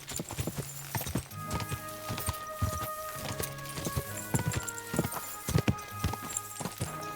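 Horse hooves clip-clop at a steady walking rhythm in the medieval game Kingdom Come Deliverance 2, close and clear over a sustained musical score, with no voices.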